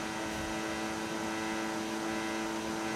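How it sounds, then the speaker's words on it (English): A Formula 1 car engine at maximum revs in the F1 25 racing game, a steady, sustained high-pitched drone at top speed with no talking. "We're like top speed, guys. We can't go quicker than that. The revs of the car are maximum."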